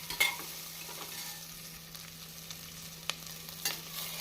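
Ginger garlic paste sautéing with onions in a chicken biryani pan, a quiet continuous sizzle with occasional spoon scrapes and light taps, close but low in level.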